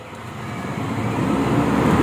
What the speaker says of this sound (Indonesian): Kini kita coba gas. Di sini papi gas full teman-teman.